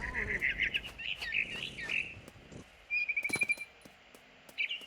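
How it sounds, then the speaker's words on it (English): A barn swallow chirps in the video game What Remains of Edith Finch, with bright, quick chirps and tweets in rapid bursts, then a pause and another sharp cluster of calls and a final short chirp, all fairly close and clear. "Then I heard chirping outside my window."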